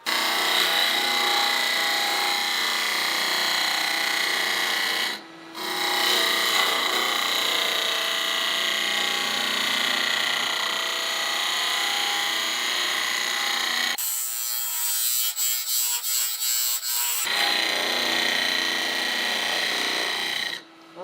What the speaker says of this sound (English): this is fairly hard to turn because of the dirt that's inside those gumballs